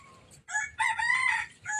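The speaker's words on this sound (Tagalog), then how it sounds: "Ayun, manok pa." A rooster crows close by during a spearfishing outing, a bright harmonic call broken into several bursts over about two seconds, heard alone without talk.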